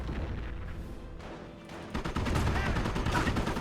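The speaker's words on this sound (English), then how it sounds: "What's this though coming down? Is this a firestorm?" Artillery firestorm barrage raining down in a Company of Heroes tank battle on the Duclair map, a dense continuous rumble of blasts that swells louder halfway through.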